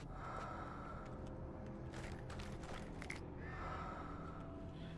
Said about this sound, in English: You hear that breathing?